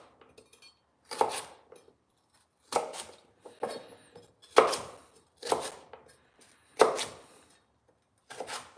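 Vegetables diced for a mirepoix on a cutting board, sharp knife chops coming in short clustered bursts separated by pauses, close and crisp with no talking.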